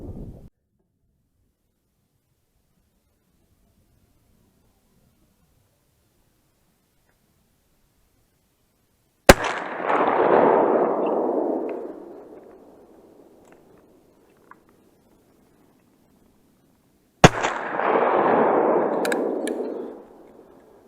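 Two loud hunting gunshots, several seconds apart, each a sharp crack followed by a long rolling echo across open ground, after a long stretch of near silence.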